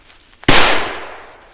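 A Dum Bum Silver P7A14 firecracker goes off in a single sharp, loud bang after a faint fuse crackle, followed by a decaying rumble and echo, heard outdoors with no talking.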